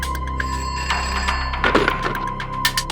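A telephone rings steadily in an indoor scene from a Hindi courtroom drama, its bell tone continuous and fairly loud over background music and a few dull knocks.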